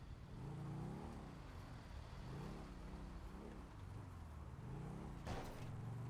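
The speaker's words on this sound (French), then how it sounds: "Très jolie moto." A motorcycle engine in a roleplay video game runs steadily throughout, with repeated rising and falling revs, loud and close, and a brief burst of noise near the end.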